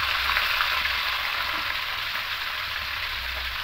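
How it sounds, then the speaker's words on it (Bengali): Onion pieces fry in hot oil in a pan while cooking a golden chicken dish, producing a steady, close, even sizzle throughout with no talking. "এবার পেঁয়াজের টুকরোগুলো দিয়ে দেবো,"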